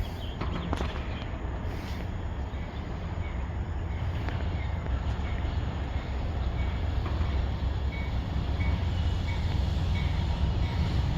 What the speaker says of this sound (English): This isn't the train I was waiting for